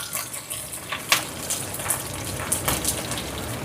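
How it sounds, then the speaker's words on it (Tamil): Shallots, green chillies, garlic and a pinch of cumin sauté in a pan, giving a steady close hiss with scattered sharp crackles and spits throughout. "இப்போ இந்த வெங்காயம் எல்லாம் நல்லா வதங்கட்டும்"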